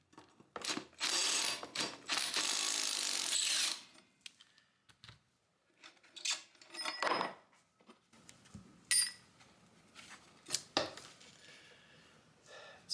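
A 5/8 inch socket and ratchet work the blade bolt loose on a tilted Craftsman M230 push mower: a burst of loud rattling, then scattered clicks, clanks and metallic knocks.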